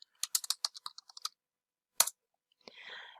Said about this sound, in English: if you type something here